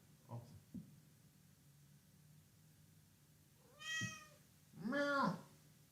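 A cat gives two clear, drawn-out meows close by, the second louder and longer, after a couple of soft thumps and a stretch of quiet room hum.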